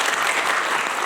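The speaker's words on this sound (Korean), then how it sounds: "박수 한번 부탁드리겠습니다" Dense, loud applause from a citizen audience at a National Assembly candidates' debate in Ansan, a brief unbroken wash of many hands clapping.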